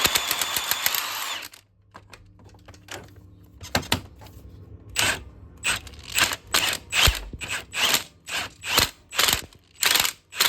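Hand ratchet turning a bolt on a Yamaha Raptor 660 quad, close, with a noisy start and then repeated clicking bursts in a steady back-and-forth rhythm.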